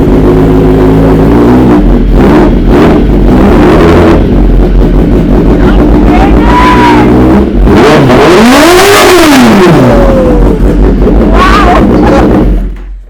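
A motorcycle throttle revs repeatedly inside a biker's home garage, loud, close engine roars swelling and falling in waves, with people talking over them and some wind buffeting.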